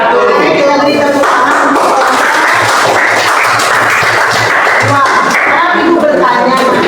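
A class of students applauding together, steady dense clapping that holds for several seconds with voices mixed in.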